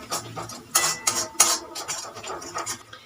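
A metal spoon clinks and scrapes against a pan in quick irregular strokes while spices with turmeric, chili powder and salt are sautéed for pabda fish curry, close and fairly loud with no talk.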